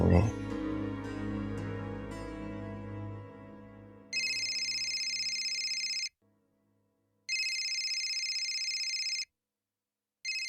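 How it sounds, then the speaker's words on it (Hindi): A telephone rings in bursts in a Pakistani drama scene: after a fading musical tail, loud electronic ringtone bursts sound twice with silent gaps between them, close and clear, and a third begins at the end. "ये बाबू इतने सुबह सुबह फोन काहे कर रहे हैं?"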